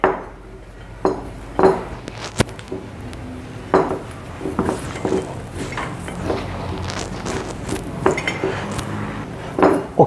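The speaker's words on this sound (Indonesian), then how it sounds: "kita uleni langsung, kita aduk." Dough for salted-egg crackers is stirred and kneaded in a bowl, making irregular clinks and knocks of utensil against the bowl along with soft squishing, close by and with no speech.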